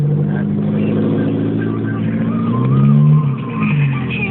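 A small car with a loud aftermarket exhaust idles with a deep, steady drone. Around the middle it revs up into a louder, rising roar, then drops back, heard close behind the car with no talk.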